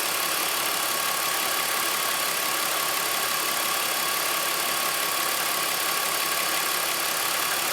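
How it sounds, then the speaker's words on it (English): An air conditioning compressor runs in a loud, continuous drone with an even hiss and hum throughout. The sound holds steady without pauses and no one speaks. "Compressor started working,"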